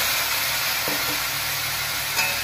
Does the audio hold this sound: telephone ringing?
no